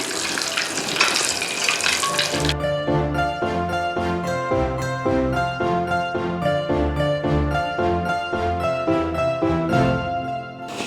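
Shrimp wrapped in cheese and batter sizzles in hot oil with a loud, crackling hiss for a couple of seconds, then the frying gives way to upbeat background music.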